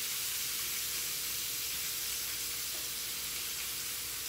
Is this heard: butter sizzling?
yes